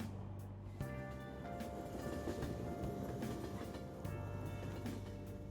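Train ride ambience in Persona 5 Royal: a faint, steady rumble of a rail car in motion with soft rhythmic clatter and a low hum, quiet and continuous with no talking.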